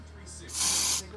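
A can of Raid insecticide is sprayed at a spider in one short, loud, close hiss lasting about half a second.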